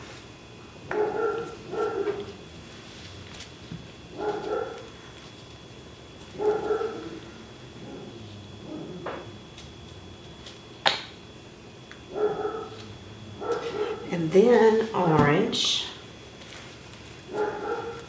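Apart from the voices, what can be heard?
dog barking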